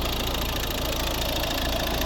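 A 2011 Volvo V50 with a 1.6 litre, 8-valve D2 diesel engine idles close up, a steady, even clatter with a faint knocking texture and no voices.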